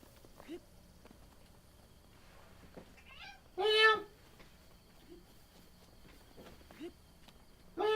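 A pet cat meows indoors, a few short calls with one louder, drawn-out meow near the middle, amid quiet room noise and faint soft knocks.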